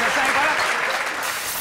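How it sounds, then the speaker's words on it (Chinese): Applause from a small group at a Taiwanese celebrity water-games variety show in Taipei, a steady patter of clapping lasting under two seconds, loud and close, with voices mixed in. "掌声鼓励。"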